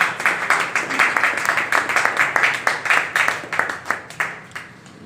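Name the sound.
audience applause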